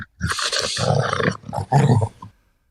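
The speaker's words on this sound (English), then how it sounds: "that hello. dog sounded mean." A dog growls and snarls while tugging on a rope toy, coming in two rough, loud bursts close by with a short pause between them.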